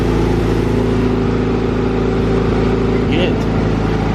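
A Honda Civic engine runs loud and steady on a dyno, a sustained droning tone with a brief rising sweep near the end, while voices talk over it.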